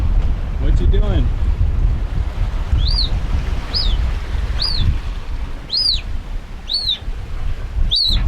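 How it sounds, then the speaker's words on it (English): A sailboat under way on the ocean, with steady rushing wind and wave noise throughout. Several rising and falling bird-like chirps stand out clearly above the noise, and a brief low vocal sound comes near the start. "We're sailing."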